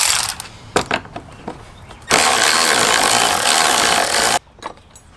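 Two 10mm bolts being removed from the intake area of a 2022+ Honda Civic, with scattered clicks and clatter followed by a loud, steady whir of a power tool running for about two seconds, then a few more light knocks.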